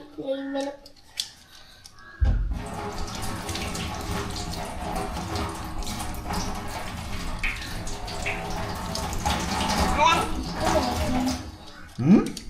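A tap runs steadily with water splashing over hands for several seconds, with brief voices and clatter before and after.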